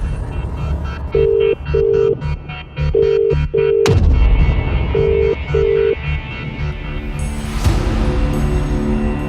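A telephone being dialed in a crime drama scene: a series of short, evenly pitched keypad tones in quick groups, followed by a low thud and a dull rumbling background, with a brighter rising tone near the end.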